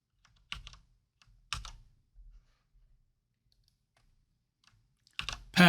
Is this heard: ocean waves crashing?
no